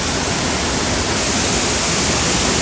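Waterfall roaring at the base of the falls, a dense, constant broadband rush of falling water heard up close and loud, with no voices.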